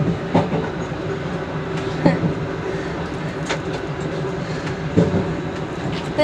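A passenger train between Twickenham and London Waterloo, heard from inside the driver's cab, rumbles steadily with periodic clicks and clunks over rail joints, a continuous close-up drone.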